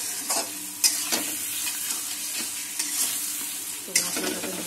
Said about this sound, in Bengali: তো মশলাটাকে ভালো করে কষিয়ে নেব